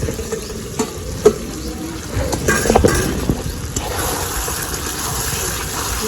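Meat is stir-fried for a meat curry, a moderate sizzle with wet bubbling and scraping stirs, several sharp clacks of a spoon or lid against the pan, and no speech.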